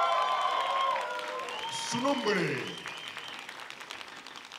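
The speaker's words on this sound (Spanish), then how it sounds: "Fuerte el aplauso para él." An audience applauds a singing contestant at a competition, a soft wash of clapping running beneath a voice as he announces over a microphone.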